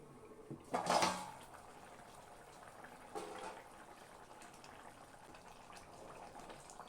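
Fish curry on a medium flame, covered with a plate: a metallic clank as the plate goes on, then a faint, steady simmer with a softer clink partway through.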